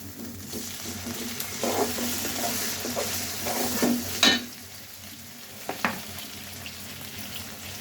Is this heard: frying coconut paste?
yes